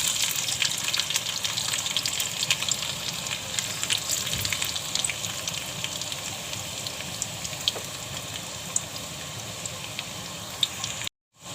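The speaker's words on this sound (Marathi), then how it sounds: "तेल गरम झालंय, त्यामध्ये आता लसूण टाकून घेते।" Garlic dropped into hot oil in a kadhai on a gas stove, sizzling and frying with a steady, continuous crackle and hiss close by, no voices, ending abruptly.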